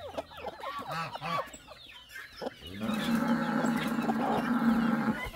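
A fat rooster with a crest clucks on a farm, several close calls at first, then a steady din of many chickens and fowl clucking together in the background.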